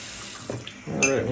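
A bathroom tap runs water into a sink for rinsing after a beard shave, a close, steady wash of water with brief splashes and a soft voice near the end.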